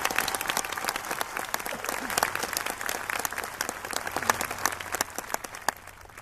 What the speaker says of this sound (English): I would like to give them a round of applause from the entire class of 2015